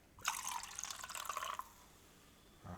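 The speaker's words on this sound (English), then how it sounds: "Let's pour a little bit into the Superior." Coca-Cola poured from a can into Bacardi Superior rum makes a short, soft, close-up liquid pour lasting about a second and a half, then stops.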